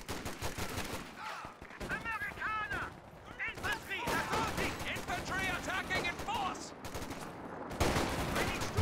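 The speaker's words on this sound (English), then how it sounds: "Yeah, double machine guns" Dense, steady machine gun fire from two guns in a video game battle, rattling loudly and continuously under a commentator's voice.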